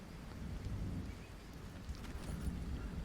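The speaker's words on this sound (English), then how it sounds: "Now it's going to rain." Steady rain in the video game Green Hell hisses and patters in a continuous wash, with a low rumble underneath and no voices.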